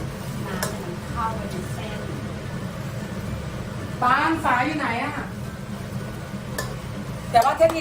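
Korat noodles stir-fried in a pan, with a steady sizzle and scraping stirring strokes, louder bursts near the end, under ongoing talk.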